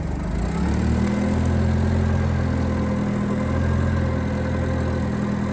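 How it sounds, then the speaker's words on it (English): An older forklift engine running nearby with a steady, loud, low-pitched rumble and constant drone, with no talking. "Kind of an older forklift."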